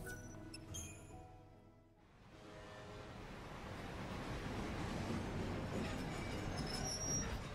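A video game train from Lightning Returns: Final Fantasy XIII rumbles as it departs, a soft start giving way to a steady, rushing roll with faint metallic squeal, moderately quiet and continuous throughout, with no voices.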